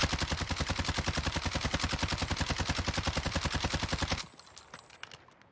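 CR-56 AMAX assault rifle in Warzone firing one long, steady full-auto burst of rapid, evenly spaced shots for about four seconds, close and loud, then stopping into a short ringing tail.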